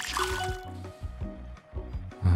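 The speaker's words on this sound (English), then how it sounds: "We need to fill you with water." Water filling a soda bot in the brewing tycoon game Soda Story, bubbly liquid glugs and pouring drips repeating in short bursts, with rising tones and a few soft game effects.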